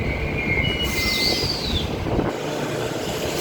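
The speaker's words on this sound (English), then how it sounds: "EMUs 32 and 34 now departing platform number 1 for a Perth service." Two coupled EMU electric multiple unit trains, six cars in all, pull away from platform 1 at Showgrounds station near Perth, a steady rolling rumble close by with high wheel squeal and a rising electric whine, no voices.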